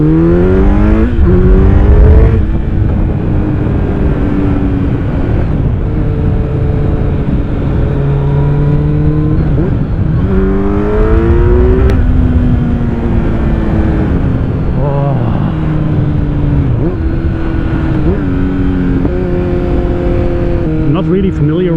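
A Kawasaki Z900 motorcycle fitted with an Akrapovic exhaust revs up and down through the gears while riding, its engine note loud and close and rising and falling repeatedly, with a rider talking over it.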